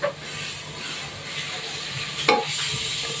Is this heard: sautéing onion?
yes